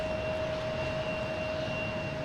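An American Airlines Embraer E175 jet arriving at Boston's Logan Airport from Indianapolis makes a steady, distant engine roar with a faint tonal whine held throughout, and no voices are heard.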